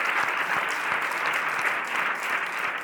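Steady audience applause at a talk, an even wash of many hands clapping for about three seconds with no voices over it.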